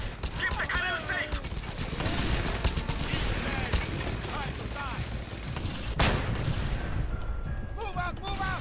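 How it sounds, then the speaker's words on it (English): Rapid gunfire bursts from a minigun and other weapons in the video game Just Cause 2, dense and continuous, with shouting voices and explosive crashes mixed into the loud battle noise. "Oh, I hear a minigun."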